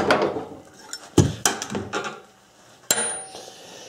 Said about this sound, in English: There's something falling off the lathe, I guess. There goes my tool.